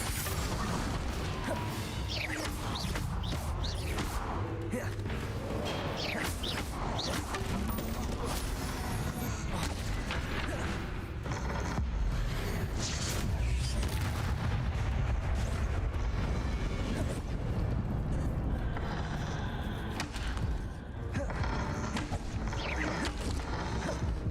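Bombarda and Confringo spell blasts in Hogwarts Legacy, a sustained barrage of booming impacts, crashes and mechanical clatter rolling on without pause, loud and dense throughout.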